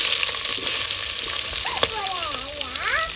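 Onions frying in a hot pan for prawn biryani, a continuous bright sizzle throughout, with a brief clink of stirring and faint whistling tones in the background, no speech.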